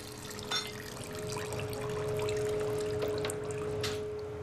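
Newly distilled, water-clear whisky spirit running from a still in a Hessian distillery, a steady soft trickling pour with faint background hum and occasional clinks.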